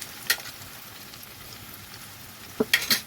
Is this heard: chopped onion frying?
yes